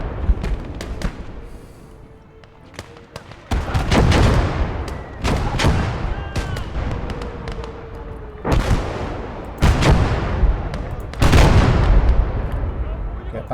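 Gunfire and heavy artillery fire in a war video game, with repeated loud booms and bursts of shots arriving in irregular clusters over a steady rumbling background, while voices talk intermittently.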